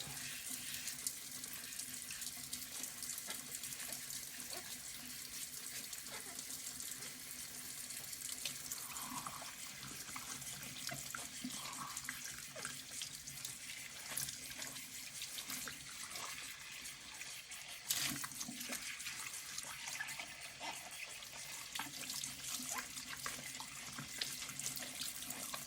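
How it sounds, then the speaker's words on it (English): A pharmacy mortar is washed under a running lab sink tap. Water flows steadily with a soft hiss for a long stretch, with faint clinks as the mortar is handled. "And now wash the mortar itself."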